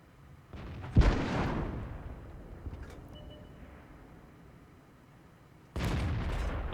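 Tank cannon fire in World of Tanks from a Tiger P heavy tank, a deep booming shot with a rumbling tail, followed by another heavy blast a few seconds later.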